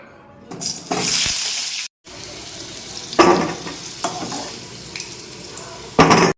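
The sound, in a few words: frying papaya and potatoes in a pan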